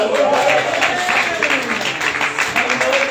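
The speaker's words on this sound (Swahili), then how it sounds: "pigia yesu makofi" Congregation in an African church clapping together, loud rhythmic applause with a voice carrying over it.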